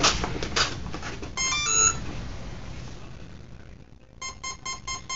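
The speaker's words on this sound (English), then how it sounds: "And the only signal I get is the ESC release signal." An electronic speed controller in a Skyangel mini F-86 Sabre RC jet with a faulty ESC emits short high-pitched release-signal beeps, one quick burst early and a rapid repeating series at the end, over faint background noise.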